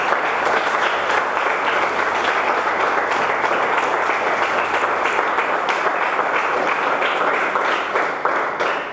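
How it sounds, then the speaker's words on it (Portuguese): A congregation applauds during a spiritual-warfare church service, a dense, steady wash of many hands clapping at close range for the whole stretch, holding strong before easing slightly at the very end. "Aplauda Jesus."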